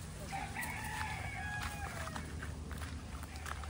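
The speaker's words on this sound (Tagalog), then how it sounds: "Pakita ko din pala sa inyo yung ating mga 1 month mahigit na mga sisiw." Flock of young chicks just over a month old in a farm pen, their thin peeping chirps steady and overlapping across the whole stretch, with soft clucking from older fowl underneath and a constant hum of outdoor background.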